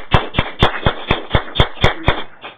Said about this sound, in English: Let's have some applause for our Toastmaster today.